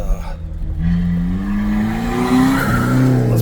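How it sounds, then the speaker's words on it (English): A loud Hyundai car engine roars past up close, its pitch climbing and then dropping as it goes by. "Loud ass Hyundai."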